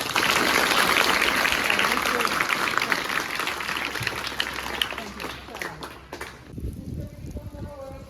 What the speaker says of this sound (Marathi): सर्वांनी जोरात टाळ्या वाजवा